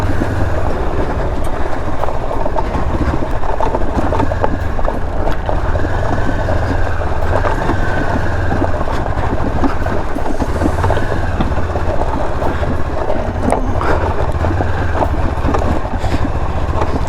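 Honda CB500X with Rally Raid Level 1 parts ridden off-road, its engine droning loud and steady throughout with constant rumble, rattle and knocking from rough terrain, and no talk.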